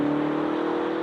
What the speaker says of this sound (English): it's a V8 turbocharged engine with 575 horsepower